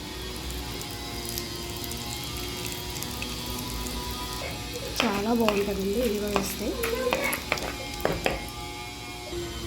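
Mustard seeds, cumin, urad dal, curry leaves and asafoetida sizzle and crackle steadily in hot oil for a tempering, with sharper spattering bursts in the second half and someone speaking briefly over it.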